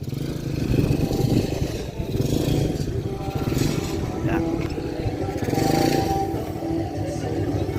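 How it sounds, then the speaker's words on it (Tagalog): A tricycle e-bike converted to run on a 100cc Rusi motorcycle engine idles and runs steadily with a loud, rattling drone and mild revving, nearby and continuous throughout. "E-bike na convert sa engine."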